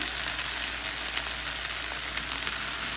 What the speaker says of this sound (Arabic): فبضيفه لحد ما يذبل ويستوي تماما مع الشاورما